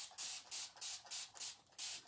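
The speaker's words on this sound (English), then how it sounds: "So I'm spraying it with water," Water sprayed from a hand spray bottle onto a snowman chalkboard sign, about six short, hissing bursts in a quick, even rhythm, close and fairly soft, with no voices.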